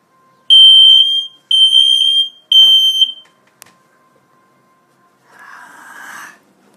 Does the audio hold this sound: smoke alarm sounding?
yes